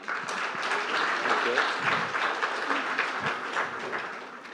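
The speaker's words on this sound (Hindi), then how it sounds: "नरवणे साहब के लिए जोरदार तालियां" Warm applause from a seated audience greets an Indian army chief at an interview event, a dense, steady wash of clapping that holds for several seconds before easing off.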